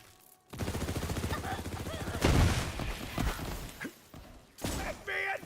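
Rapid gunfire in a video game crackles in dense, close volleys with thuds and impacts, while someone talks over the shooting.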